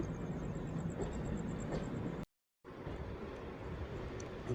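A MEMU passenger train rolls on the outer approach to Nidadavolu Junction station, a steady rumble of wheels and carriage noise with a faint high whine, briefly cut to silence midway before resuming.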